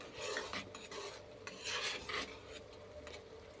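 A spoon stirs cardamom powder into a sweet mixture in a bowl, giving quiet scraping and rubbing strokes in uneven bursts, close and faint, with no speech.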